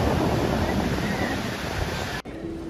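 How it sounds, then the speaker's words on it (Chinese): Pacific Ocean surf rolls in at Santa Monica Pier as a continuous, loud wash of breaking waves mixed with wind rumble, and it cuts off abruptly just before the end. "海浪，海边有冲浪人"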